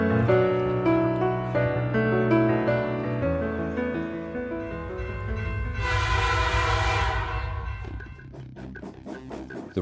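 A train on the Rostov to Volgograd route sounds its horn in long, loud tones, with a brief hissing rush midway and rolling rail noise underneath.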